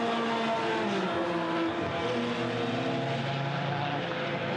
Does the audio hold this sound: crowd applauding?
no